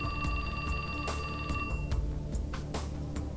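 A phone rings in the video game 428: Shibuya Scramble with a steady, bright electronic trill that repeats for about two seconds and then cuts off, leaving faint background sound.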